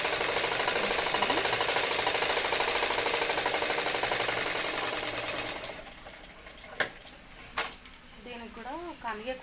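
A sewing machine stitching a blouse runs in a fast, loud, steady whir for about six seconds, then stops as a few clunks and handling sounds follow, with someone speaking.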